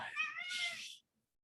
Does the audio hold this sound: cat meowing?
yes